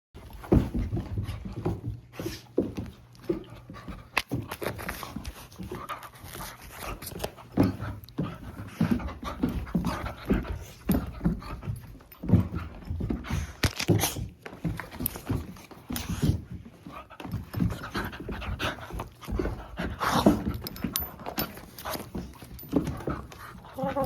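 A dog named Veto pants in quick, rhythmic breaths close by, with occasional soft whimpers and bursts of movement, continuing at a moderate level throughout.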